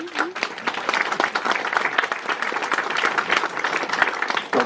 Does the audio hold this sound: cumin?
no